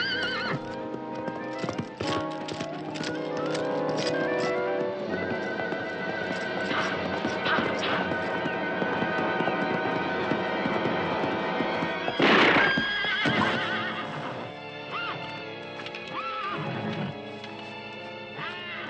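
Horse hooves clip-clop steadily along with loud neighing and whinnying, mixed with scattered background noise and a few sharp knocks.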